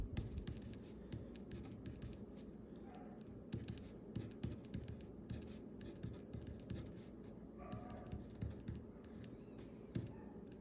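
Writing on a board during a linear algebra lesson: a steady series of short scratching and tapping strokes, close and fairly quiet, with brief pauses between bursts of marks.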